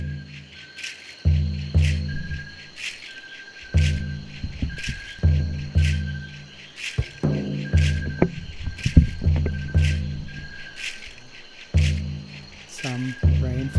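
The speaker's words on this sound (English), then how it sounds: "And we have the jungle." Jungle ambience sample from a shamanic drum meditation loop pack, with a steady deep drum beat striking about every second and a half over a soft, busy natural backdrop.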